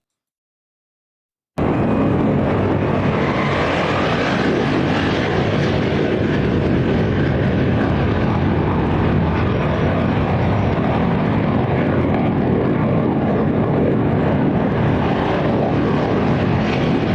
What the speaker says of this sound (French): ils font sortir les Fu-30 ou des avions pour tourner dans la zone de Mérida